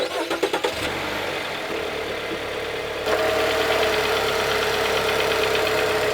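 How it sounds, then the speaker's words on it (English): A gasoline engine cranks and catches, then settles into a steady, loud running rumble with a rapid mechanical clatter of its valves over it. "When you start it up, you can hear the valves clanging, clattering."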